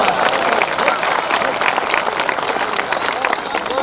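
An audience at an All India Mushaira poetry recital breaks into loud, dense applause, a continuous roar of clapping from a large crowd, close and steady with voices mixed in.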